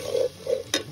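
Oil frying spices in a pan for a dry kasuri methi chicken, a steady close sizzle with soft stirring swells and a brief sharp scrape near the end, no voices.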